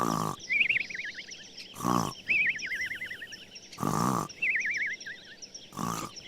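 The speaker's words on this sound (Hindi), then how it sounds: "बच्चों को ढूंढ रही बकरी ने उसके खर्राटे सुने" Loud rhythmic cartoon-style snoring of a wolf: four heavy rasping snores, each followed by a wavering whistle on the exhale.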